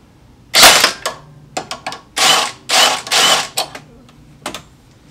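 A bolt is tightened during a 3.5-inch Metalcloak lift install on a Jeep JL, heard as loud close bursts of a ratcheting power tool with sharp mechanical clicks between them.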